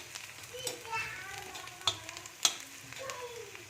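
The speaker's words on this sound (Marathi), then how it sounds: "संग्रामसाठी काळ्या तव्यामध्ये मटकी बनवावी." Moth beans (matki) fry in a black iron pan, a soft crackling sizzle with sharp stirring clicks against the metal and people talking quietly in the background.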